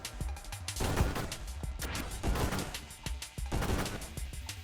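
Enemy ships firing in the Nova Drift space shooter game: repeated sharp shot bursts and crashing impacts in uneven clusters, moderately loud, with little talk.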